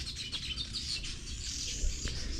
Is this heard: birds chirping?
yes